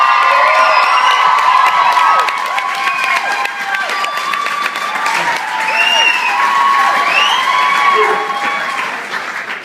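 A Southampton crowd cheers loudly, with steady applause, whoops and high excited shouts, including children's voices, sustained throughout at close, dense volume.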